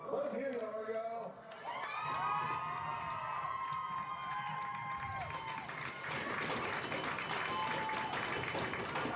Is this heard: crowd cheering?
yes